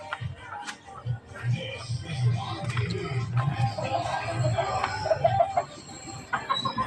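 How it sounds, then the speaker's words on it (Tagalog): Small hens cluck and murmur in a busy flock, with scattered bird calls and low shuffling throughout, no talking. "Marami na akong manok dito maliliit."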